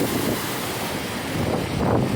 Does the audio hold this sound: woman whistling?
no